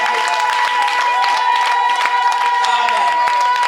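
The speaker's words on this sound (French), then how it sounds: "On acclame encore les Seigneurs." Church congregation at a Paris service cheering, clapping and shouting in praise of the Lord, a dense sustained wall of applause and voices throughout, loud and close.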